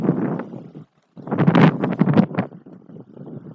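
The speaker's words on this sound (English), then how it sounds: "It's really windy out here." Strong wind buffets the microphone in loud, gusty rumbles, with a brief lull before the gusts surge back.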